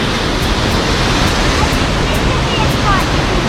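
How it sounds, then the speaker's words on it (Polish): A waterfall in Sapadere Canyon, Türkiye, drops about six to seven metres, a loud continuous roar of falling water heard close by and unchanging. "Świetnie woda opada w dół, około"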